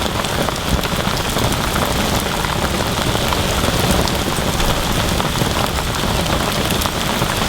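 Heavy rain pours steadily at an outdoor carp fishing spot, a dense close-up roar of drops hitting surfaces that stays constant throughout.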